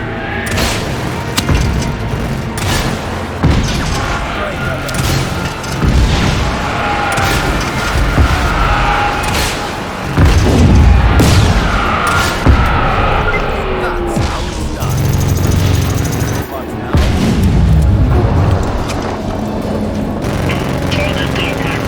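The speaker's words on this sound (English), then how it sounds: "The rocket launcher will do better." Heavy rocket-launcher explosions boom repeatedly in Just Cause 3 during a Bavarium extractor attack, loud crashing blasts and debris bursts recurring across the stretch amid constant game noise, with a voice talking at times.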